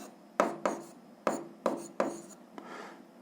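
Pen or chalk strokes while writing out a physics calculation, a series of short scratchy taps and rubs in uneven rhythm, close and fairly quiet with no talk over them.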